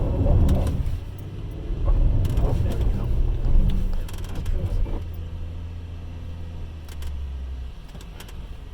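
A Porsche Cayenne on wet tires climbs a smooth, grippy 65% incline at the Porsche Experience Center, its engine a low, steady rumble close by that fades slightly as the climb goes on, with a brief remark from a person inside.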